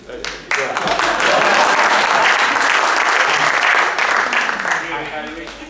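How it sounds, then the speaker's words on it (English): A Harvard Kennedy School class audience breaks into applause: dense, steady, full-room clapping that starts abruptly, holds loud and even for several seconds, then thins slightly toward the end. "do you want to clap?"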